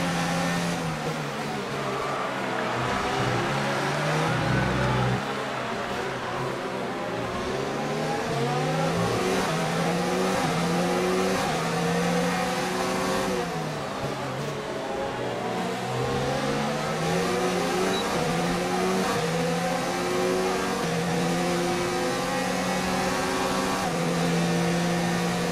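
A Renault Formula 1 car in a racing video game screams around the Marina Bay street circuit in Singapore, its engine loud and continuous, rising and falling in pitch through gear changes and corners with no pauses.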